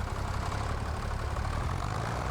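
A tractor engine idles in Farming Simulator 25, a low, steady diesel rumble that holds constant and close throughout, with no talking over it.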